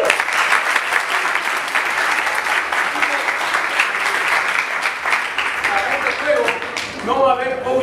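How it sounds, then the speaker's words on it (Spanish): An audience at the Copa San Marcos improvisation championship applauds the theatre team with sustained, dense clapping that fills the room for several seconds, then thins out to scattered claps near the end. "Un aplauso para el teatro."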